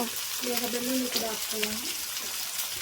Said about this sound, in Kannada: ಟೊಮೊಟೊ ಜಾಸ್ತಿ ಫ್ರೈ ಆಗಬೇಕಾ ಸ್ವಲ್ಪ ಅಷ್ಟೇ ಫುಲ್ ಮೆತ್ತಗಾಗೋವರೆಗೂ ಫ್ರೈ ಮಾಡಿಕೊಂಡು